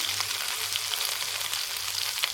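Ginger garlic paste frying in hot oil for a dry bitter gourd curry, a steady dense sizzle with crackling throughout, close and continuous with no voices.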